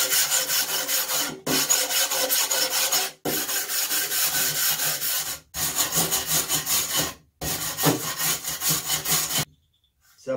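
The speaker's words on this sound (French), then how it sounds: "On va essayer la brosse métallique." Wire brush scrubbing paint off a Peugeot 103 RCX moped fairing, harsh rhythmic rasping strokes in bursts of a second or so, separated by short pauses, close and loud.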